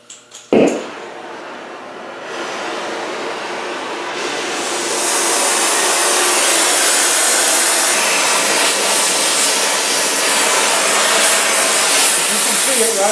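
A torch heats the stem of a sheet metal rose held in a vise, making a loud steady roaring hiss that starts after a sharp click and builds in intensity, continuous and close.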